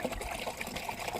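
Running water splashing and trickling while fish are washed, a soft, steady gush with small splashes and no voices.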